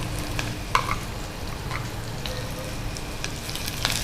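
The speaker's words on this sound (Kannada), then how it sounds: "ಈಗ ಈರುಳ್ಳಿ ಸ್ವಲ್ಪ ಫ್ರೈ ಆಗಿದೆ" Onion and green chillies fry in a pan, a steady crackling sizzle with occasional sharper pops and faint stirring clinks, close and continuous with no talking.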